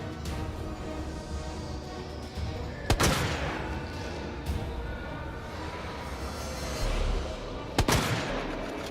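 Gunfire in Resident Evil 2 sounds as several sharp shots over a dense, rumbling game background, with a pair of loud cracks standing out. A voice speaks briefly and quietly.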